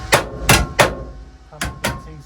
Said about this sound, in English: Panel beating skills have really come into play. Hammer and dolly.